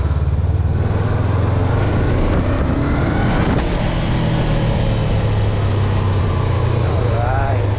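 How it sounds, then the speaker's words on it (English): A 2022 Honda 500 motorcycle accelerating hard in second gear, its engine a loud, continuous droning roar heard close up, buffeted by heavy wind noise as it rides. "let's go in second gear because we're going to do a little sprint here"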